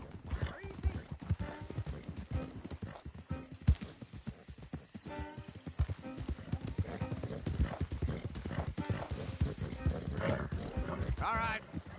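Horse hooves clip-clop steadily in a video game, a brisk rhythmic patter of several hooves close by, with voices talking over the top throughout.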